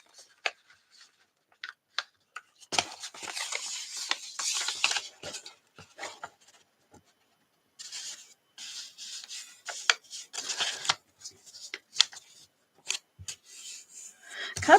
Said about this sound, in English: Copier paper is difficult to fold in half.